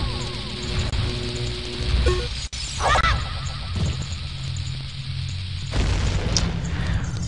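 A bomb goes off in Zelda: Ocarina of Time, a dull booming blast heard over continuous game music and effects, with no voice over it.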